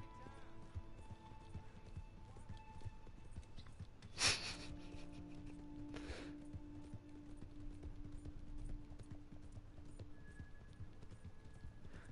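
Horse hooves clip-clop steadily in Red Dead Online, set against a constant bed of game ambience and tonal music, with a brief sharp burst near the middle and voices talking faintly over the scene.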